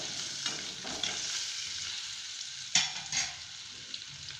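Potatoes sautéing in oil in a pan for dum aloo, a steady close sizzle with occasional louder scrapes and clinks as they are stirred, no talking.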